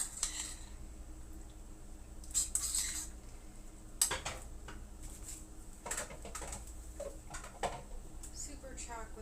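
A utensil stirs penne pasta and vegetables in creamy sauce, giving soft wet squishes and clinks of metal on cookware in irregular bursts, with a voice talking over it.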